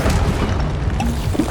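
The Incendio fire spell is cast in the Hogwarts Legacy video game, a loud, dense burst of booming, crashing magic effects that fills the short moment without pause.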